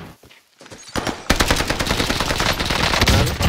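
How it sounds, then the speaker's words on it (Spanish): Rapid automatic gunfire rattles in Call of Duty Warzone, starting with a few scattered shots before a sustained loud burst of machine-gun fire fills the rest, with no talking. "Me estáis disparando de la izquierda y de delante, tío."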